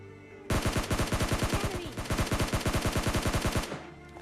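Rapid automatic gunfire from PUBG Lite, a steady burst of about thirty evenly spaced loud shots lasting roughly three seconds, heard alone with game ambience before and after.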